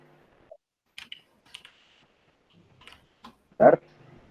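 Sparse clicks of a computer keyboard as ipconfig is typed into a Windows command prompt, several separate light key taps in a quiet room, ending with a louder, heavier keystroke.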